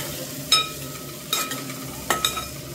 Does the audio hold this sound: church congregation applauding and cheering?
no